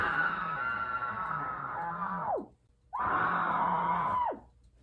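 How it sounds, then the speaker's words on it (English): A young woman screams into a pillow twice: long, muffled, strained cries close by, each breaking off abruptly, with a short pause between them. "Scream into a pillow, and I want to see how loud it is."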